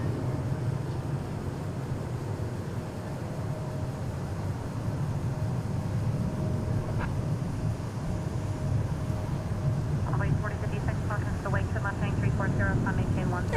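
A Boeing jet takes off from runway 36 Left at DFW International Airport, its steady engine roar heard from a distance throughout, with radio-style voice chatter breaking in near the end.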